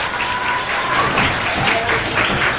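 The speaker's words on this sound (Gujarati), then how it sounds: "જોરદાર તાળીઓથી ટીમ ઇન્ડિયાને આપણે વધાવીશું" An audience claps steadily for Team India at a school quiz competition, a continuous round of applause from a seated crowd.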